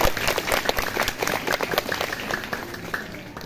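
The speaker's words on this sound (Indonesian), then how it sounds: "Tepuk tangan, kasih aplaus." Students at a junior high school orientation week clap for classmates, a lively burst of individual hand claps close by that swells and then gradually thins and softens toward the end.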